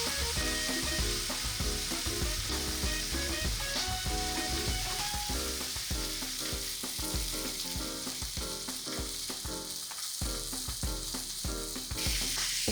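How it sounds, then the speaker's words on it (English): Steak frying in olive oil in a hot pan, a dense continuous sizzle holding steady and loud throughout, with faint clinks of handling mixed in. "Put some olive oil on a hot pan and cook the steak."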